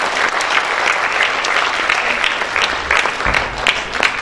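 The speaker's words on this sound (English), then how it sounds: "Give a round of applause for this dedicated board of trustees" An audience at a school awards day applauds steadily, a dense, continuous clatter of clapping from many hands in a hall, holding at an even level throughout.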